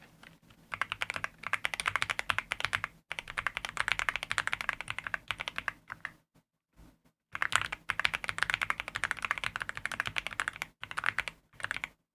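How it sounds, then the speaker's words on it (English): Brisk, crisp keystrokes clatter on a new computer keyboard in two long, dense bursts of rapid typing, close and clear, separated by a short pause. "The new keyboard is so crisp and so clean and so nice."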